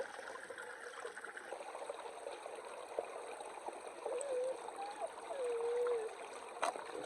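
Stream water trickles and gurgles softly as a bottle is filled in the deep woods, a low, steady burble close by with a few louder splashy swells toward the end and no one talking.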